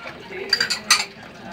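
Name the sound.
washing plates, dishes clinking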